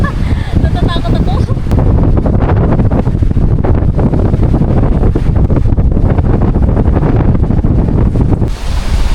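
Strong wind roars into the microphone aboard a small boat off Limasawa Island in rough, wavy sea, with constant loud gusting and surf noise across the whole stretch.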